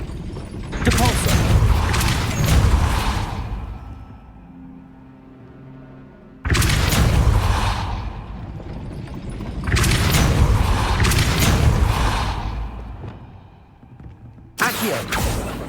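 In the Hogwarts Legacy video game, a heavy gate mechanism grinds and booms in repeated loud bursts of creaking machinery, separated by quieter stretches of faint hum.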